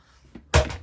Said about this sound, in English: oh, knocking over my chopper.